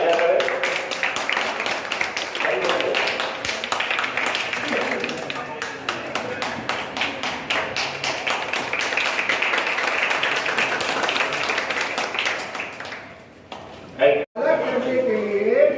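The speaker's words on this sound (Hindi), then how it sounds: "एक बार इनके लिए बहुत जोरदार तालियां करें।" Audience applause at an Independence Day school program, a long stretch of loud, dense clapping that thins near the end, with talking mixed in under and after it.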